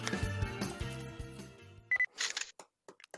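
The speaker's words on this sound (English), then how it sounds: "With my phone, I took a photo of the snow-covered landscape." A phone camera snaps a photo in a visual novel game: a soft musical passage stops, then a short electronic beep and a crisp shutter click follow, with a few small clicks trailing after.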